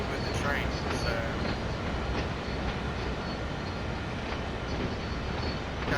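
A train rolls past in the Train Sim World 5 game, a steady, loud rumble of wheels and rail clatter filling the whole stretch with no pause.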